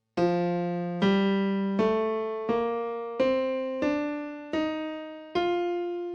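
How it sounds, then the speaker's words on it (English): Eight piano notes of the F Mixolydian scale climb step by step in an even, unhurried rhythm, each ringing briefly before the next is struck. "So that's the F Mixolydian scale."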